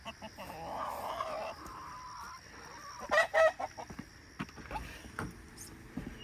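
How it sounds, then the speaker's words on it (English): A few loud squawking calls from chickens close by, with scattered clucks and shuffling against a quiet background. "Chickens, good morning."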